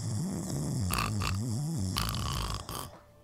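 A person imitates loud snoring with their voice, a drawn-out, wavering rasp rising and falling for about three seconds before fading away.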